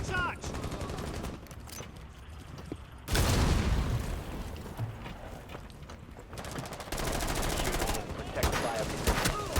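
Explosive charge detonating in a combat video game, a sudden loud boom midway that rolls into sustained rumble, with rapid gunfire and crackle before and after and voices in the mix.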